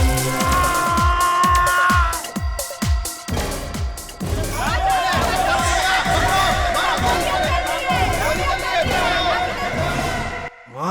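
A large crowd clamours with rising shouts and cheering, mixed with loud dramatic background music and a few thuds, continuous until a sudden cut near the end.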